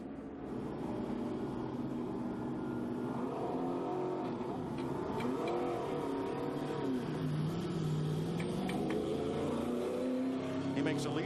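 Michael Waltrip's NASCAR race car rolls slowly off pit road under caution at the Daytona 500, a steady engine drone that rises and falls in pitch, mixed with broad track and crowd ambience and a commentator talking over it.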